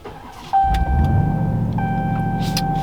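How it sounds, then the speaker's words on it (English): Power side mirrors on a Ram TRX pickup fold out with two short electric motor whines, one after the other, over the steady low rumble of the idling truck. "Always got to fold out the mirrors."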